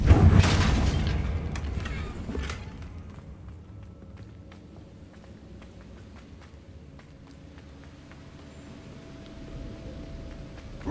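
A Confringo spell blast in Hogwarts Legacy hits as a loud boom at the start, then fades into a low rumbling tail and quieter game ambience.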